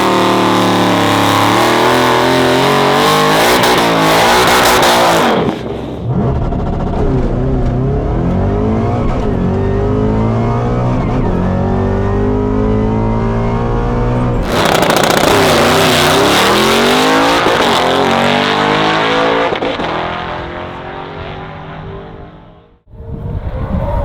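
A race car launches hard at 4,300 RPM and accelerates, its engine loud and close, climbing in pitch through rising revs with abrupt gear changes before backing off at the end.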